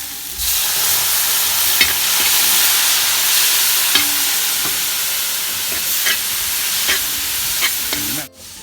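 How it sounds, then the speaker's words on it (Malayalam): Boiling water goes into a hot tomato masala gravy for fish, giving a loud steady sizzle and steamy hiss with occasional spoon clinks from stirring, ending abruptly. "ഇനി ഒരല്പം നമുക്ക് തിളച്ച വെള്ളം ഇതിനകത്തേക്ക് ഒന്ന് ഒഴിക്കാം."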